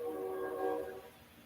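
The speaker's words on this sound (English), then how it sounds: "I don't know what train that is." A train heading north sounds a tonal horn-like drone at a moderate distance, strong for about a second before fading away.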